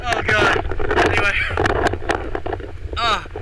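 Strong wind gusting across an island beach, loud rumbling buffets on the microphone beneath someone talking, with the roar rising and falling throughout.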